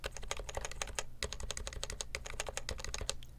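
Rapid, close-up typing on an HHKB keyboard's bracket keys: a dense, continuous stream of crisp clacky keystrokes at an even pace, with no talking.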